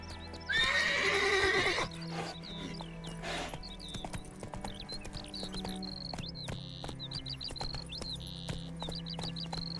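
Roach, the horse in the video game Witcher 3, gives a loud, close whinny, then trots off with quick clip-clopping hooves running steadily under scattered game sounds and small chirps.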